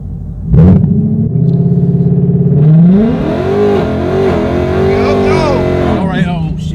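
A 2018 Mustang GT fitted with headers, cold air intake, E85 fuel and active exhaust accelerates hard, its loud V8 rumble climbing through rising revs and a gear change, close up, with a voice briefly underneath.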